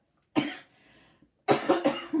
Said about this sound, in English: Sometimes I think the cold drinks make my cough worse.